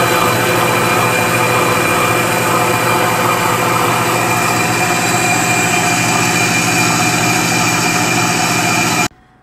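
An electric blender mixing batter with egg, saffron and vanilla essence makes a loud, steady motor whir for about nine seconds, then cuts off abruptly. There is no talking.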